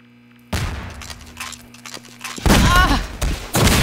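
Gunfire bursts in Half-Life 2 Deathmatch, a one-on-one match, loud and close: a sharp onset of shots, then heavier clustered blasts near the end, ending in a headshot, with a faint voice underneath.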